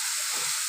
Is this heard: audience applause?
no